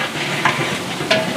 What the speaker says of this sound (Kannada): ಆ ಆಯಿಲಲ್ಲಿ ಫುಲ್ಲು ಫ್ರೈ ಆಗ್ತಿದೆ ಸರಿಯಾಗಿ